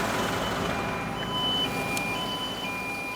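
Cargo truck reversing away from an aircraft on an airfield, sounding steady high reversing beeps over a low engine hum and continuous background rumble.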